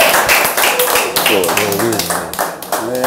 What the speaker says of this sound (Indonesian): Tepuk tangan dulu dong Buat Ronaldo.